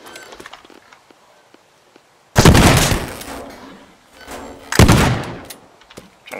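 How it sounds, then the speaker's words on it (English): Gunfire through a window in the video game Teardown: two loud, sharp bursts of shots, each trailing off with debris and rumble, separated by quieter ambient noise. "I'm trying to fire through the window"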